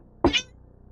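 A cat gives a single short, close meow, rising and falling quickly against a quiet background.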